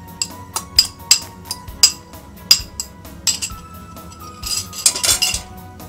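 Dumpling casserole mixture with eggs stirred in a bowl, producing irregular clinks and knocks of a utensil against the dish, close and fairly loud, with no talking.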